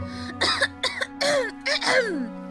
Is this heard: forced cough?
yes